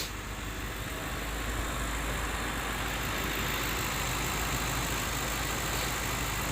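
A 2006 Cadillac STS with a 4.6L engine and stored fault codes idles steadily, a constant low engine drone with broad hiss, close and unchanging, no talk.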